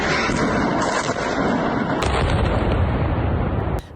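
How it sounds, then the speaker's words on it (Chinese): A missile strike on a 15-storey building in central Beirut's Bashoura district, followed by its collapse: a loud, sustained roar of blast and crumbling debris fills the whole stretch, then cuts off abruptly near the end. "飞弹咻的一声，大楼应声倒塌，被灰黑烟尘吞没"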